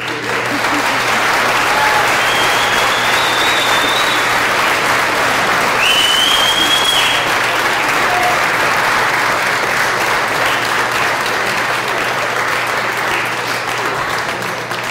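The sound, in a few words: graduates applauding family and friends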